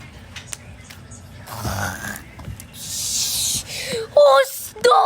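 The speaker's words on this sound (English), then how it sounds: "Who snores that loud?" Loud, rough snoring comes in a few ragged breaths with noisy rasping stretches, sitting close to the listener among other small indoor rustles and thumps.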